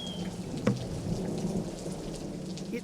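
Steady rain falls in a continuous hiss with a low rumble of thunder underneath, one brief sharper crack near the start, and no voices.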